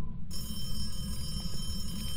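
A telephone rings inside the horror video game Phasmophobia, set in a high school; a steady electronic ring sounds continuously under a low rumbling background.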